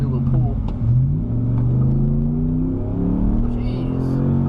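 A 2013 Dodge Ram 1500 Hemi pickup accelerating hard on the street, a close, loud V8 drone whose pitch climbs through the pull with a brief shift dip early on, and a voice faint beneath it.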